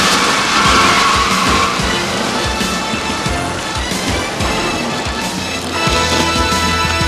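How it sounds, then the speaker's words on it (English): Winston Cup Series race cars crashing, a dense chaotic mix of roaring engines, skidding tires and repeated impact thumps and scrapes, loud and close throughout. "it was one of the biggest crashes ever for the Winston Cup Series"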